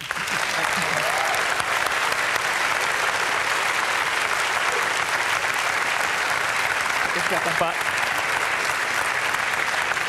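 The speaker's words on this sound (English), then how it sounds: "Give a warm applause." Debate audience in Maastricht applauds the winner of the vote for European Commission presidency candidates, a loud, unbroken wash of clapping from a large hall crowd sustained throughout, with faint voices beneath.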